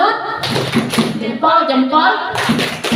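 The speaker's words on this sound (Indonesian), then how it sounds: "Tepuk salut" A group performs a rhythmic salute clap at a school gathering. Bursts of clapping come in a patterned beat alongside chanting voices, loud and close.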